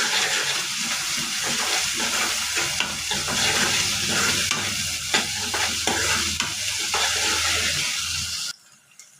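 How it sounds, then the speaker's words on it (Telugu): Ginger-garlic paste sizzles in a pan with chillies while a spoon stirs and scrapes, a continuous close crackling fry with repeated stirring strokes throughout, ending abruptly. "ఇవన్నీ కలిపి పచ్చి వాసన పోయేదాకా వేసుకోవాలి"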